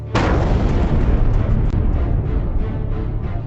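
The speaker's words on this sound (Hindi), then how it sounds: "सुनाई दिया एक जोरदार धमाका।" A sudden loud blast followed by a long, dense rumbling roar that slowly fades, with no voices.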